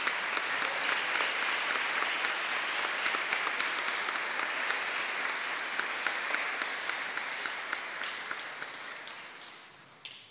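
Church congregation applauding married couples during a solemn Mass at a town festival in Los Realejos, a dense, steady wash of many hands clapping that goes on for about ten seconds before fading and stopping.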